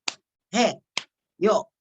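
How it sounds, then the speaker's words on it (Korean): A Korean group clapping exercise called the 841 positive clap, done in a well-being lecture, heard as a sharp single clap followed by a longer burst of vocal chanting, repeated twice in a steady alternating pattern. "이게 841 긍정박수라고 하고요."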